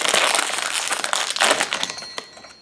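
Crinkly plastic blind bag from a Star Wars toy surprise being torn open, giving a close, dense run of crackling and rustling crumples that fade toward the end.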